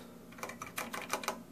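Hori Hayabusa arcade pushbuttons click in a quick, uneven run of sharp taps, several close together and close-miked, with no voices.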